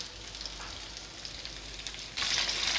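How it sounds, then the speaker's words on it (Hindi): Peri bites fry in a pan over medium heat, giving a steady close sizzle that suddenly grows louder and brighter near the end, with no talking. "मीडियम आंच पे हम इसे फ्राई करेंगे"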